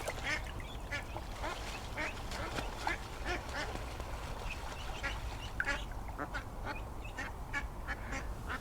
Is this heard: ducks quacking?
yes